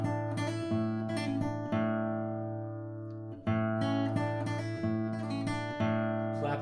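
Electric guitar plays a pull-off and hammer-on riff, ringing notes over a sustained open string, steady and close throughout, played alone.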